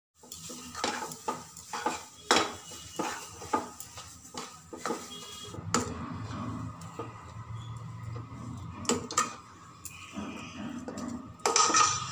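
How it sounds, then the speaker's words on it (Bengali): Spiced pea filling seasoned with chilli powder and garam masala is stirred in a pan, giving repeated scraping and clinking strokes in an irregular rhythm over a low, steady sizzle, close and moderately loud. "লঙ্কা গুঁড়ো, গরম মশলার গুঁড়ো দিয়ে বেশ কিছুক্ষণ নাড়াচাড়া করতে হবে।"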